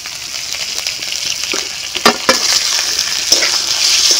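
Fried eggs stir-fried in cooked spice masala sizzle steadily in oil, with sharp scraping stirs and a few louder clacks of the spatula against the pan, close up and alone.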